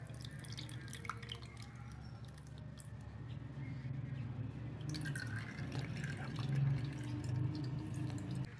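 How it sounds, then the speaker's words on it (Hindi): Water drips from yogurt set in a strainer, soft irregular drips and trickles over a low steady hum of a kitchen room. "दही हमें गाढ़ा चाहिए, इसलिए हम इसका पानी निकाल रहे हैं।"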